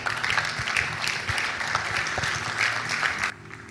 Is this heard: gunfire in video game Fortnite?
no